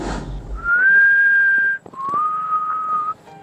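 Someone whistles a short tune alone: two sustained, clear notes, close and loud, separated by a brief pause.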